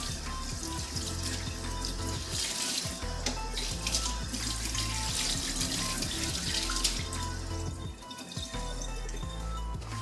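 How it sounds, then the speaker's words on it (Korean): A knife rinsed under a running kitchen tap, a steady close splashing water stream with small clinks and shifts as the blade moves through the flow, continuous without speech. "칼은 항상 수세미나 비누로 닦아주셔야 돼요"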